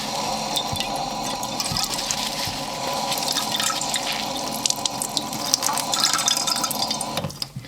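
Tap water running steadily from a faucet into a sink while a paper towel is wetted for germinating pepper seeds, a continuous close splashing rush that cuts off near the end.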